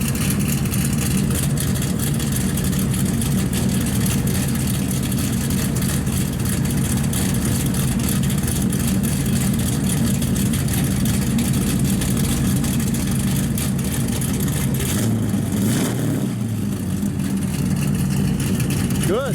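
A 1955 Chevrolet 3100 pickup with a lumpy camshaft and dual exhaust runs steadily, a loud continuous low engine rumble close by, with a slight rev near the end.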